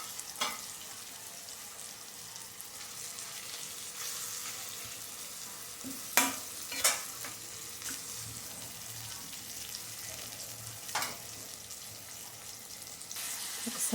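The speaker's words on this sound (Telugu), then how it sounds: "చూడండి ఇప్పుడు శుభ్రంగా కడిగి పెట్టుకున్న చికెన్ పీసెస్ వేసేస్తున్నాను." Washed chicken pieces hit a hot pan and are stirred, a low steady sizzle with a few sharper scrapes and clatters of the spoon, fairly quiet and without voices.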